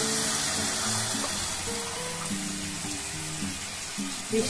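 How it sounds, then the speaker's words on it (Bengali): Chilli chicken sizzles steadily in a pan with soy sauce and tomato sauce, a continuous hissing fry heard up close, with a faint melodic background tune underneath. "সয়া সসটা দিয়ে একটুখানি ভেজে নিতে হবে প্রথমে"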